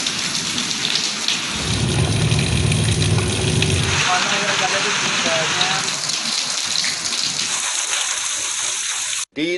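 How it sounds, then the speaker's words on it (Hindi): Heavy stormy rain pours steadily across a wide area during a monsoon storm in Pakistan, a dense loud hiss with deep rumbling low surges, continuous throughout with no talking. "मुल्क भर में तूफानी बारिशों का नया सिलसिला शुरू।"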